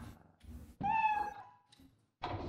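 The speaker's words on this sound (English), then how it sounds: "I hear pussycat." A cat in a video game lets out one clear, drawn-out meow, framed by short bursts of other game sounds.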